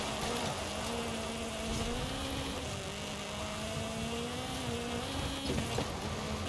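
A Ford Fiesta fitted with a rally engine drives a trail-like rally stage on a mountain in Forza Horizon 5, its engine note droning steadily and close throughout, the pitch gently rising and falling with no talk over it.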